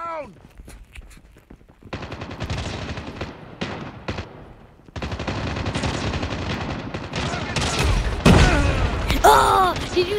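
Sniper rifle and other gunfire ring out in a Call of Duty Mobile match, sharp shots and bursts over game effects and footsteps, with a player's voice talking through much of it.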